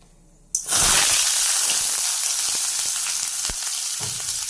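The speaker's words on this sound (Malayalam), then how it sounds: "ഇതിലേക്ക് കട്ട് ചെയ്ത് വെച്ചേക്കുന്ന സവോള," Sliced onions hit hot oil in a pan with a sudden loud sizzle, settling into a steady close hiss with occasional stirring clicks and small pops.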